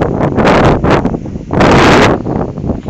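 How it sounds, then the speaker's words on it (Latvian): Gusts of wind buffeting the microphone outdoors, loud blustery rumbles coming in uneven bursts, with one long heavy gust in the middle and no talking. "Vējs."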